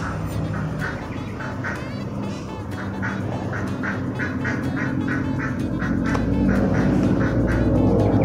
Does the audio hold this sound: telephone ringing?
no